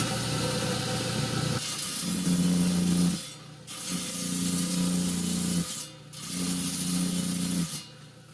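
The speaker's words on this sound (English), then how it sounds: "I take this old coarse grinding wheel and I touch it up" A coarse grinding wheel is pressed against the spinning diamond blade of a rock saw, dressing it. Three sustained grinding passes, each a rough, droning rub over the motor hum, are separated by short pauses. The sound is close and loud, with no speech.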